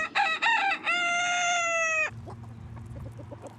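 A rooster crows loudly and close on an 18-acre Ohio farm with a flock of about 125 chickens, a long drawn-out call after short clucks, then fading into soft background clucking.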